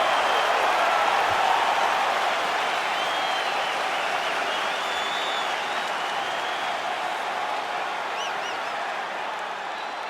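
An arena crowd in the UFC 5 video game applauds and cheers steadily before a lightweight championship fight, a dense, loud wash of clapping that holds for the whole stretch and eases slightly toward the end.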